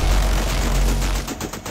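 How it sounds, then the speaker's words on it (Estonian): Gunfire from a naval vessel during a shooting exercise at sea, a heavy low boom that rolls and fades, followed by a short burst of sharper cracks near the end. "Täna hommikud alustasime laskeharjutusega."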